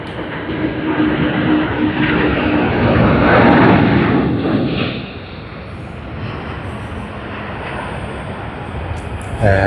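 A Garuda Indonesia Airbus A330 departing Sydney Airport makes a steady, broad jet roar that swells toward the middle and then eases to a lower, continuous rumble.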